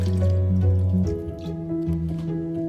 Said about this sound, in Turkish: Brokolleri alalım, güzelce suda yıkayalım, sirkeli suda bekletelim